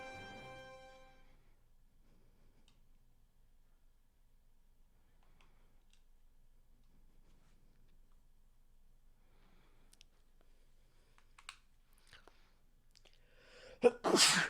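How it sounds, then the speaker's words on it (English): A single sneeze bursts out loud and close at the very end, after a long near-silent stretch with only faint clicks and a soft musical tone fading at the start. "I'm also going to sneeze."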